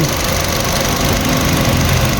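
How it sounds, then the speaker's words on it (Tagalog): A repaired Nissan Almera car engine runs steadily at idle with a continuous, slightly knocking mechanical drone, close and loud throughout. "umaandar na ang makina natin ngayon"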